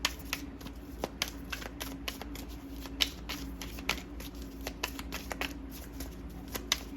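A Louise Hay Power Thought card deck being shuffled, giving a steady run of soft riffling clicks and sharper snaps up close, with no talking.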